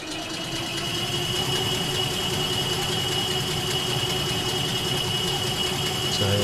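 A vehicle engine in the game ECO hums at a steady mid pitch, a sustained droning motor tone with slight vibration, fairly close and continuous with no talk.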